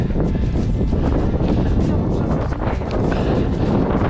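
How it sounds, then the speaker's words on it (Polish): Strong, cold winter wind on a snowy ridge of the Western Tatras buffets the microphone in a constant, loud roar with no letup. "Jest okropnie zimno, wieje."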